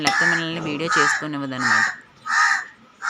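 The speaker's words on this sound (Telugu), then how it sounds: "కాకి పొలోమని అరుస్తుంది" Crow cawing loudly near a garden with plant pots, several harsh caws repeating through the clip, overlapping someone speaking and continuing alone at the end.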